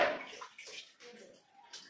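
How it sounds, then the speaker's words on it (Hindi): Water pours and sloshes into a bottle outdoors in a village setting, a splashy gush strongest at the start that then trails into softer gurgles, with faint background voices. "भाई है जो कि अभी पानी भर रहा बोतल में"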